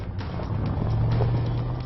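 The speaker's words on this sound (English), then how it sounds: "it's not long before the cars are back on the move and giving the snow a right royal pounding" Land Rover vehicles drive through snow in Vermont, their steady low engine rumble loud and close, holding a continuous drone that builds slightly partway through.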